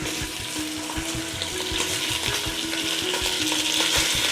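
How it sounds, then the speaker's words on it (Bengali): Chicken pieces with spices and salt fry in a pan, giving a dense, loud, continuous sizzle with soft stirring scrapes underneath, close by and without talk. "এবার আমরা চিকেনগুলো দেব, দিয়ে একটু নুন দেব, দিয়ে নাড়াচাড়া করব।"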